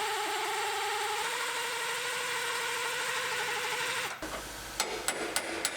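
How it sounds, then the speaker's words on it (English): A steady, loud mechanical whir of a power drill drilling out spot welds on a 2018 Ford Explorer runs continuously for about four seconds, then cuts out, followed by a few sharp metallic clicks. "Now we're going to drill our spot welds out."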